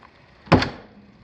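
An old garage door with a self-closing spring swings shut with one solid thunk. It sounds close and is followed by a brief fading rattle in a quiet room.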